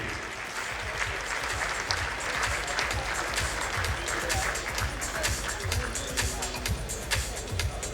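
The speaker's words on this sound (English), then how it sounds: "Mr. Shah has promised 40 days in Lakshadweep to that table from his personal account that claps the loudest" Applause from audience tables at a jewellery charity gala fills the hall, dense and continuous clapping at close range, with voices mixed in underneath.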